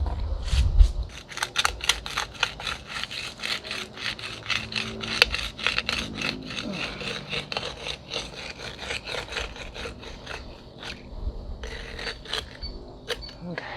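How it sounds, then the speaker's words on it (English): A drainage hole is poked through the bottom of a concrete pot mold, with a run of rapid scraping, rasping strokes, close and fairly loud, slowing toward the end. "I'm just going to poke a hole through the bottom."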